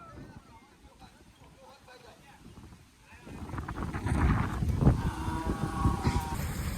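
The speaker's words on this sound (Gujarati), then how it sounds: "પેલો પવન આવ્યો જો કેવો આવ્યો" Wind rushes and gusts against the microphone, swelling louder partway through and staying strong, with a voice speaking underneath.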